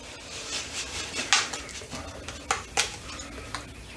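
Concrete mix scooped into a bowl mold with a few gritty scrapes and knocks, two sharper scoop impacts standing out over a steady rustle, close and fairly quiet.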